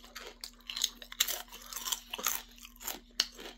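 Kettle-cooked original gourmet potato chips crunching close up, a steady series of sharp, loud crisp bites and chewing with brief gaps, no talking.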